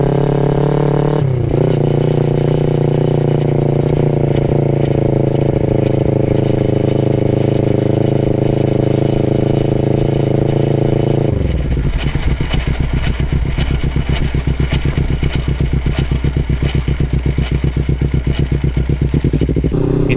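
A Kawasaki Ninja 250 FI motorcycle with a worn chain and gear set runs steadily up close, its loud engine drone carrying a raspy rattle, then shifts near the midpoint into a rougher, clattering pitch that continues to the end.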